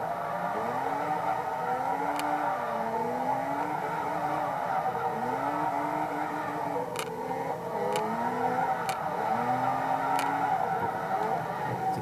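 A car drifts in the racing game Forza 2, its engine droning steadily while the tires squeal in long rising and falling tones, broken by a few sharp clicks, and nobody speaks.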